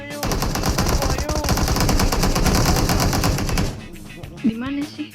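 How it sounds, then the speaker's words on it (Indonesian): Rapid automatic gunfire in a shooter video game, loud and dense, with bursts of rattling shots for several seconds before cutting off, followed by quieter game sounds and a brief voice. "Tembak, Wahyu"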